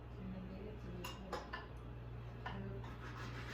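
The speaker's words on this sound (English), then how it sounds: "I'm going to mix everything." Eggs and cheese being mixed in a dish, with a utensil clinking and scraping against the dish in soft, irregular taps over a quiet background.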